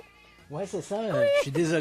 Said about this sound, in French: c'est un chat siamois, c'est très vocal.